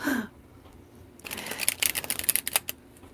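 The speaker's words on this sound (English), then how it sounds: "I'm just trying to shuffle a little bit here" Tarot cards are shuffled in a quick riffle of crisp, papery flicks that builds in the second half, close and fairly loud, with no talking.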